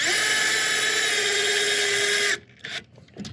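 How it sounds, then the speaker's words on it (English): A power drill drives screws into stacked logs, making a loud, steady high whine for about two seconds before it stops abruptly, followed by a few brief clunks. "putting in the last of the screws on row 6"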